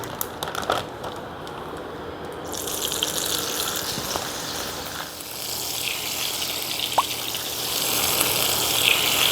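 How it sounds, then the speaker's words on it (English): Cold tap water gushes steadily over cooked soba noodles in a sink, a continuous rushing splash that swells slightly louder toward the end, with no talking. "if we don't rinse it in cold water, what will happen is they just gel together"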